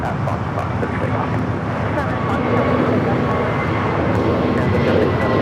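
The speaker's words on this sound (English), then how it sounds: "This is Volati 1715 taking off to Guadalajara on the A321neo." An Airbus A321neo rolls for takeoff on runway 25 right at Los Angeles airport, a loud, steady broadband engine roar with wind buffeting, while a voice speaks over it.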